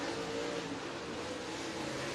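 Race cars head out onto Tazewell Speedway's dirt track in Tennessee, a steady, dense engine roar holding at even loudness throughout with no voices on top.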